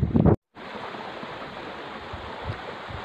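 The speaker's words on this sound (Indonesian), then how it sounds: "Inilah aliran sungai di bawah bendungan Bendo." Water flowing in a river below the Bendo dam in Ngindeng, Sawoo, Ponorogo, heard as a steady broadband rush after a brief loud knock and a moment of silence, with light wind on the microphone.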